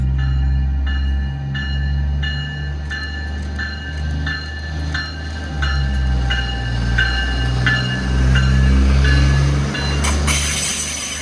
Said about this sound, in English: here's that train departing the station, continuing south